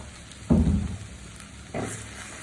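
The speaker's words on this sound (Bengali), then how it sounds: "দিয়ে আমি ভালো করে কষিয়ে হলুদের গুঁড়া মরিচের গুঁড়া" Turmeric and chili powder sautéing in oil for a raw mango pickle, two soft bursts of sizzle as spices are stirred, quiet between.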